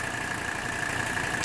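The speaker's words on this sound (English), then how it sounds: "This engine has never run so smoothly since I have purchased it." A Mercedes 300 SD diesel engine idles steadily after a diesel purge, a smooth continuous close hum with no audible knocking or variation in level.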